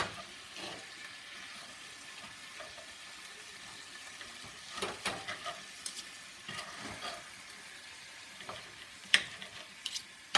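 Bell peppers with chicken and mushrooms fry in a pan on high heat, giving a steady quiet sizzle with occasional sharper crackles and light utensil clinks.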